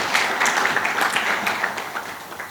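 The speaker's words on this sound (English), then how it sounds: "Another warm round of applause." Warm audience applause at a report launch event, dense clapping that runs steadily throughout and thins slightly toward the end, fairly close and moderately loud.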